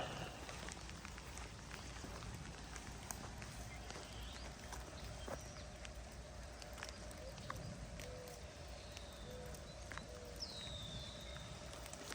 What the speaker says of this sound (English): it's actually still raining